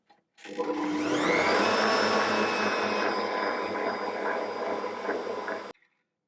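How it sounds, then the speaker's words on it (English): An Ankarsrum stand mixer whisks eggs into oil and sugar for a preserved lemon loaf cake, running as a steady, loud motor whir with a faint rhythmic whisking texture for about five seconds before stopping. "I'm going to add in the eggs one at a time, and I'm going to whisk those and get those fully combined"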